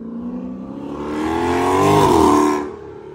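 A deep, aggressive catless exhaust on a Dodge Charger SRT 392 V8 accelerates hard, rising in pitch through first gear, briefly dipping at the shift, then climbing again in second before cutting off.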